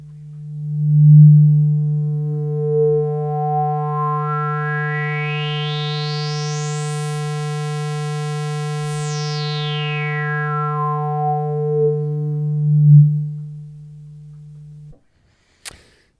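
Yamaha CS-5 synthesizer square wave through its resonant low pass filter, the cutoff sweeping slowly up and back down over one sustained droning note, with a whistling resonant peak gliding across the harmonics before cutting off abruptly.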